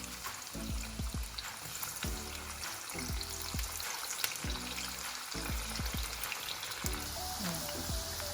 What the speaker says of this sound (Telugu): ఇప్పుడు మనం కట్ చేసి పెట్టుకున్న కాకరకాయ ముక్కల్ని ఆయిల్లో వేసి వేపుకుందాం.